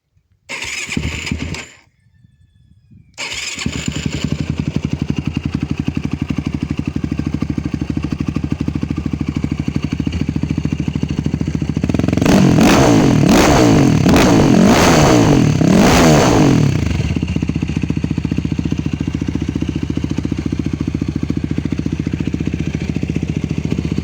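A Yamaha YFZ 450 ATV fitted with an FMF exhaust starts up close by, then idles with a steady low rumble before a burst of sharp throttle revs. It settles back to idle afterward.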